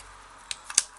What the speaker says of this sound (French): vous pouvez couper. Hein, avec les ciseaux